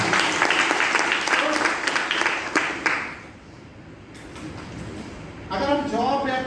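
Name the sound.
audience applause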